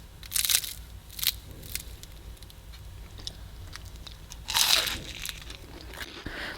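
Crisp crunching bites of a fried egg roll, a few distinct bursts spaced apart with quiet pauses, close and fairly loud, no talking.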